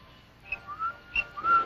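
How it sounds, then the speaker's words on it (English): A boy whistles as a signal in a 1961 World War II film, several short, high, clear whistle notes in quick succession, faint and alone against quiet background. "The boy's whistling."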